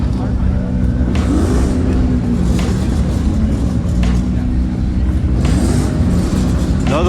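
Lamborghini Aventador Performante supercar engine at a crowded car show outdoors, a steady loud engine drone with rising revs, mixed with crowd noise and people talking.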